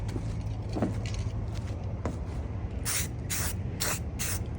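Several short hissing bursts of a quick-drying spray paint can, four or five in a row near the end, over a steady low background rumble.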